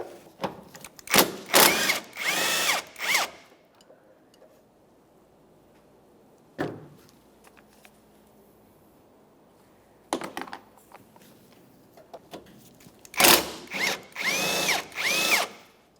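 A power tool working loose 14mm engine mount bolts on a 2014–2019 Toyota Corolla, heard as loud whirring bursts in two clusters with a single brief burst between them and quiet gaps in between.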